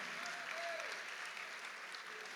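A church congregation at an evangelical congress applauds steadily, a soft, even wash of many hands clapping heard from some distance, with a faint voice threading through.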